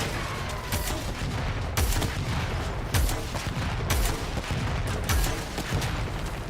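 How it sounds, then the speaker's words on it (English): Heavy gunfire and booming shots in the Warframe sci-fi shooter, a dense continuous battle din punctuated by several loud, regularly spaced blasts, with no talking. "Who's shooting?"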